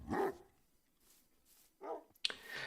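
Tamed dogs barking in a multiplayer video game: a few separate sharp barks spaced out over a quiet background, the last two close together, near and clear with no talking.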